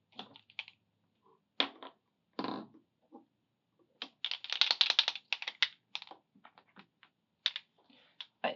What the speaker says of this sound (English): I'm just going to erase this part.